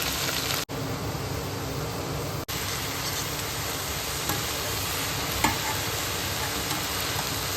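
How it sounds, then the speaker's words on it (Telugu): Amaranth leaves cook in a pan with a dense, steady sizzle under occasional stirring, the frying noise loud and continuous apart from two brief dropouts. "ఇలా తోటకూర వేసుకుని ఒకసారి బాగా కలుపుకొని మగ్గనివ్వండి."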